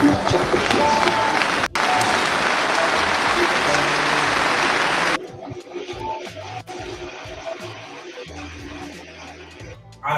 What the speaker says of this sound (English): I imagine that's all the men in the church clapping.